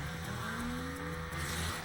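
A 2010 Nissan Maxima sedan's engine roars loud and steady in a TV commercial, with a rising engine whine and faint tire squeal over about two seconds.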